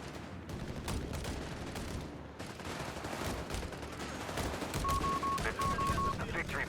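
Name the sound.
assault rifle gunfire in video game Company of Heroes 3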